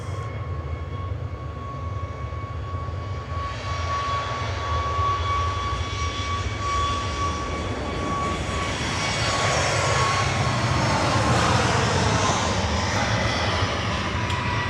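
A TUI Boeing 737 Max 8 rolls for takeoff at Manchester Airport bound for Mahon, its jet engines building from a whining hum into a loud, sustained roar that grows stronger toward the end, with no voices.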